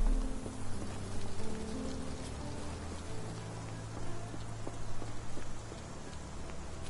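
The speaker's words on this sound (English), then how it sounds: "This dreary rain is making a miserable day even worse." Steady rain patters on hard surfaces outdoors in a game, a continuous wash of drops with a low droning background and no voices.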